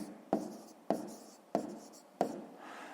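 Pen writing on paper during a fifth-grade maths exercise, four quick scratchy strokes, each starting with a soft tap, close and quiet, with no talking.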